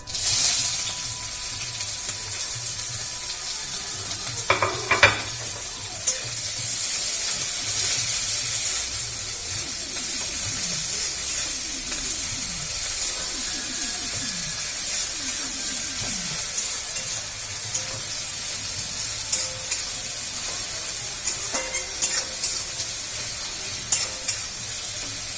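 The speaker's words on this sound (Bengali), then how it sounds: "এবার পেঁয়াজটা ভাজতে দিয়ে দিচ্ছি।" Chopped onion frying in oil with two dried red chillies and whole cumin, a steady close sizzle with occasional stirring scrapes for a Bihari chicken curry, no talking.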